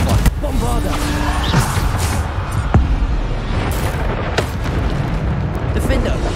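The Bombarda spell in Hogwarts Legacy fires off booming explosions amid chaotic combat effects. A voice talks over the steady loud mix of blasts and rumbles.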